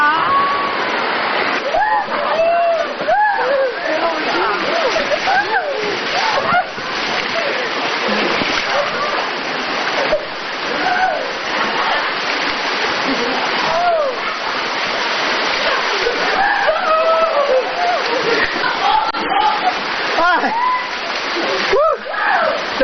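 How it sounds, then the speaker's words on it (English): Water rushes and splashes continuously during a water rafting ride, a loud, close roar and spray with excited voices shouting over it. "That's water rafting."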